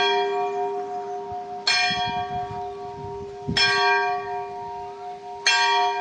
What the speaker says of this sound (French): on a les cloches.